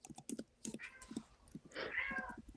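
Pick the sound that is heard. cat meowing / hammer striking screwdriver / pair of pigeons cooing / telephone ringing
cat meowing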